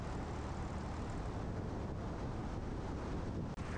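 Strong gusty wind buffets the microphone at an airport, a loud, steady roar of wind noise filling the clip with a brief dropout near the end.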